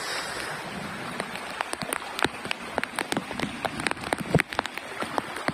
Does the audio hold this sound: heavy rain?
yes